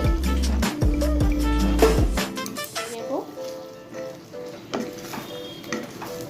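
Chicken pieces added to whisked yogurt in a hot pan, first a loud burst of sizzling with clattering utensil knocks, then quieter stirring and bubbling, with a voice talking over part of it.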